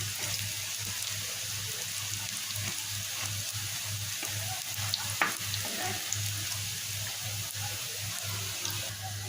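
Lentil fritters sizzle and crackle steadily in hot oil, a continuous bubbling hiss with small pops and a low hum underneath.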